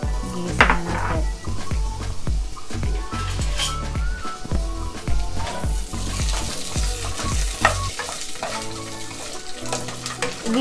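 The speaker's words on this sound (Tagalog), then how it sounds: "Gigisayin lang siya, guys." Carrots sautéing in hot oil in a pan, a steady close sizzle with rhythmic stirring scrapes and clinks of a utensil against the pan.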